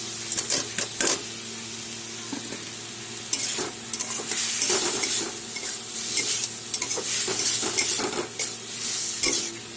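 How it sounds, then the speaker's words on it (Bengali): Three medium boiled potatoes are stirred into sizzling spiced oil in a pan, a loud close frying hiss broken by repeated scraping and clattering of a spoon against the pot. "আগের থেকে সিদ্ধ করে নিয়েছিলাম 3টা মিডিয়াম সাইজের আলু, ওটা এখন আমি দিয়ে দিলাম"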